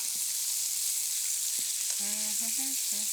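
Beijing chicken pieces fry in a pan with a constant close hiss of sizzling oil, while a few short tonal sounds like a squeaky utensil or clatter come through near the end; no speech.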